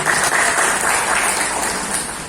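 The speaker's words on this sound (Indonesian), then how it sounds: "tepuk tangan terlebih dahulu untuk beliau" Seminar attendees at an education event on learning loss give a round of applause, with close, continuous clapping from a roomful of people at a fairly steady level, easing slightly toward the end.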